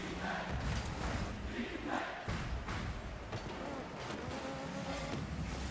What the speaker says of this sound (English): Crowd is chanting defense